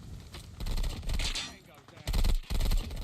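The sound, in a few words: suppressed gunfire from a video game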